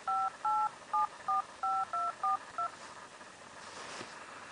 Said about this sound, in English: I'll call my cell phone.